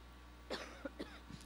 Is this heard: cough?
yes